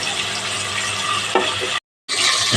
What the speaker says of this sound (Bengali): দিয়ে দেবো মেরিনেট করা মাংস মাংসটাকে লাল লাল করে ভেজে নেব